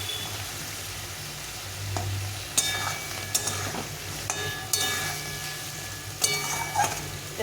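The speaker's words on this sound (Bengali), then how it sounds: "এটা একটু ভালো করে কষিয়ে নিতে হবে।" Chili powder sautés with taro in a pan, giving a steady sizzle with several sharp spatula scrapes and clicks against the metal.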